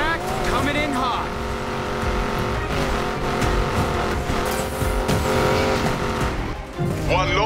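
A car accelerating hard in the Need for Speed Payback video game, its loud engine roaring continuously with rising revs and tyre squeal, a voice talking over the noise.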